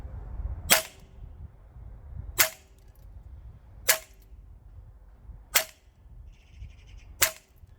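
Cyma gas-system airsoft gun firing 0.25 g BBs on green gas, five sharp single pops spaced roughly one and a half seconds apart, crisp and close with quiet outdoor background between shots.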